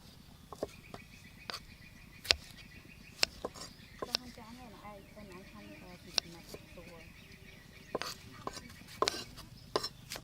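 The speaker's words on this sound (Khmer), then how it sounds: "នេះបន្ទាប់មកយើងហាន់ពេញប៉ោះ" Tomatoes are sliced with a knife on a cutting board outdoors, with scattered crisp taps of the blade at an uneven pace and faint bird chirps and insect noise in the background.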